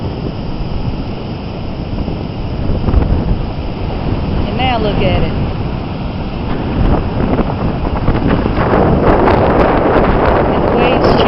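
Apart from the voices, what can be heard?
storm waves and wind on beach during Tropical Storm Ida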